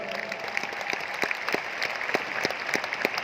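An audience at a business talk applauds steadily, a dense crackle of many hands clapping at once that holds an even level throughout.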